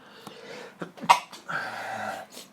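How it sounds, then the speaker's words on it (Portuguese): A single sharp sneeze bursts out in the middle of a lecture on absolutism, standing out from quieter room sound and soft vocal noises around it. "Espirrei, pessoal, desculpe."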